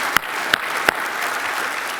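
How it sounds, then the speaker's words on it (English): Crowd applause at an awards gala, a continuous bright patter of clapping with three sharp, louder claps standing out near the start. "Let's give them another round of applause."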